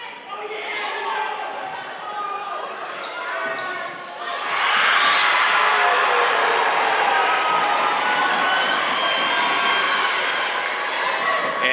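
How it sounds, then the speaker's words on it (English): At a girls' volleyball match between Spring Grove and Central York, the Spring Grove crowd and student section cheer loudly and steadily, the roar swelling midway and holding, with a ball bouncing and commentators talking over it. "The Spring Grove crowd and student section rather vocal here"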